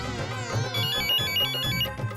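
A melodic mobile phone ringtone, from a phone in a purse, plays continuously, bright electronic tones repeating in a short tune at moderate volume.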